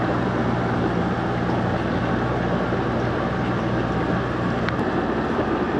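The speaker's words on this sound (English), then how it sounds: "the recycle line is working great. Airlift pump," An airlift pump runs in a deep water culture hydroponic recirculation system, giving a steady, loud broadband bubbling and air-pump rumble with a low hum that holds evenly throughout.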